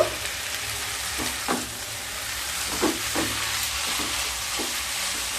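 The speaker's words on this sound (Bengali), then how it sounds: "আর দিয়ে দেব হোয়াইট ভিনেগার এক টেবিল চামচ দিয়ে আবারও খুব ভালোভাবে মিশিয়ে নেব" Hakka noodles tossed in a hot pan with a spoon of white vinegar: a steady frying hiss broken by several scraping, clattering stirs.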